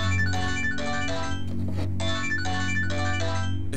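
An electronic phone ringtone plays in repeated bursts of bright tones with a short pause in the middle, steady and fairly loud over a low background hum.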